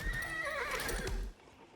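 A horseman unit's horse in Age of Empires IV gives a single whinny with hoof clip-clops beneath, faint and brief, ending in quiet.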